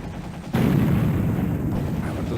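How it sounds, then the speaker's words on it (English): Explosions from a PlayStation full-motion-video game burst in suddenly after a quiet half second, then roll on as a loud, sustained, deep rumble without letup. "How about those explosions?"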